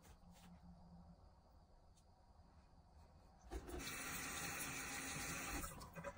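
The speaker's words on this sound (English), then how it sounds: "Rinse the rag again." A sink tap runs while a rag is rinsed under it. The faint trickle turns into a louder, steady gush of water partway through, with rubbing and splashing from the cloth and no talk.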